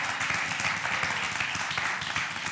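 Studio audience and crew applaud Jorge Asín during an interview event, a steady dense clapping filling the whole moment at moderate distance.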